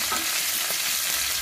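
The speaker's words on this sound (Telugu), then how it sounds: "వెల్లుల్లి మంచి బ్రౌన్ రంగు వచ్చేంత వరకు ఫ్రై చేసుకోవాలి" Garlic frying in hot oil for a masoor dal tadka, giving a steady, close crackling sizzle with a faint stir near the start, no voices.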